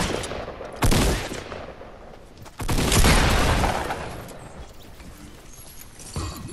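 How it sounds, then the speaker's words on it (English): Shotgun blasts go off in a Fortnite match, two loud booming shots seconds apart, with quieter clatter in between and another shot at the end. "I did miss a lot of shots there"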